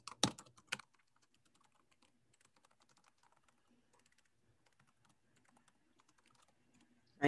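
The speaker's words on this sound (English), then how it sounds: "So I could literally just start typing." Fingers type on a computer keyboard, a run of light, irregular clicks after a couple of louder opening taps, ending with a sharp key strike.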